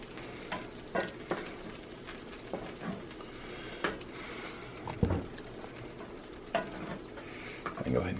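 Meatballs cook with gravy in a cast iron pan, giving a soft, low sizzle under scattered light scrapes and clinks from a utensil against the iron.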